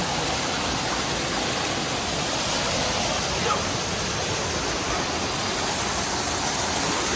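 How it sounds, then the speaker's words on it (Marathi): Forceful stream water rushing in the Konkan countryside as rain builds, a loud, steady, unbroken roar of white noise that fills the whole clip without pause. "पाण्याचा फोर्स बघ एवढा आहे"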